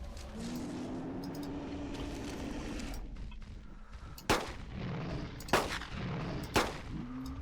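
Three loud, sharp gunshots ring out in the second half of Carnivores: Dinosaur Hunt on PC as a dinosaur is fired on, each crack spaced about a second apart over a steady rumbling ambient bed.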